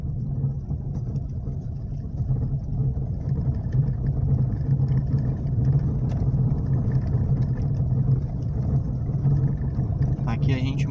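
Medium car engine running steadily in second gear while turning right, a constant low drone close by that holds level throughout.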